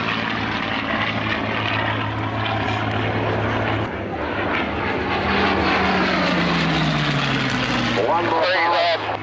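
At a 2004 airshow, a propeller aircraft makes a high-speed run, its engine roaring loudly and continuously. The pitch sweeps downward as the plane passes, and a voice talks over the noise.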